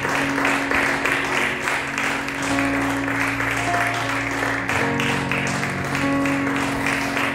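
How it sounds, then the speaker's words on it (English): A church congregation clapping their hands in worship, a sustained wash of applause running under steady instrumental tones, with some voices mixed in. "let's just clap our hands to the Lord"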